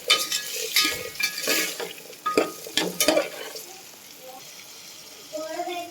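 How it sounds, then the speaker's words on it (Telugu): A spoon stirs moong dal and chana dal in a pot for khichdi, scraping in uneven bursts with clinks and light frying noise, fading toward the end, under a faint voice. "రెండు కలుపుకోవాలి."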